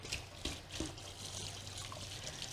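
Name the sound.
splash of water poured into baking pan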